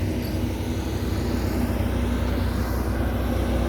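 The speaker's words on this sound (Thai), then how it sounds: "น่าจะเครื่องบินตำรวจด้วยนี่" A white police airplane drones overhead above a flooded area, a steady, loud, unbroken engine rumble with broadband roar that holds level throughout.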